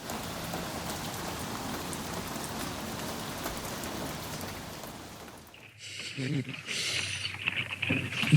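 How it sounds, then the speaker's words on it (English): Steady rain patters on a camper for several seconds as a dense, even hiss, then shifts to a brighter, more uneven spatter, and speech is present. "It's been raining all day, so we've been trapped in the camper."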